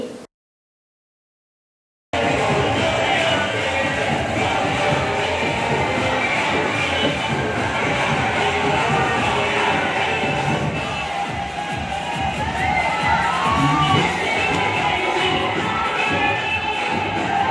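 Dense crowd of devotees at a Ganesh immersion procession, continuous loud cheering, chanting and shouting merging into a steady roar with thumps and scattered cries, after about two seconds of near silence.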